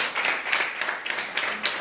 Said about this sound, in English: clap for them again